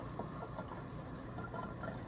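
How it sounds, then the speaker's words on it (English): Water running from a kitchen tap, a continuous close, even rush with faint splashing droplets, steady throughout and with no voices. "Get the water running."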